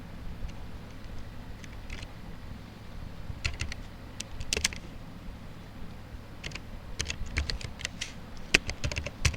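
Web addresses are tapped out on a computer keyboard during an HTML lesson, in irregular bursts of close, crisp key clicks separated by short pauses, with a faint background hum and no speech.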